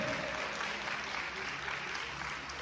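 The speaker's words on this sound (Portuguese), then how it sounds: "Aplauda bem forte a ele." A church congregation applauds during a Portuguese-language worship service, a continuous, moderately quiet rush of many hands clapping with a steady low hum beneath and no clear voices.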